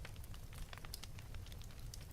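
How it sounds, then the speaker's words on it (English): A fireplace fire crackles gently and steadily, with soft scattered pops over a low continuous rumble at a moderate, even level. "The fire continues its gentle crackle."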